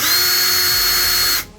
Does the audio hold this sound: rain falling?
no